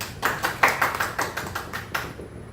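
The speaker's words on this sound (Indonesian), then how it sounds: "Yes, tepuk tangan semuanya." Congregation in a church applauding at a sermon, heard as a short, sparse run of about eight distinct claps, fairly close and moderately loud, tapering off quickly.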